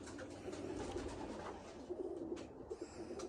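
Racing pigeons cooing inside a loft, a steady murmur of soft low coos from several birds, close by and continuous with no talking.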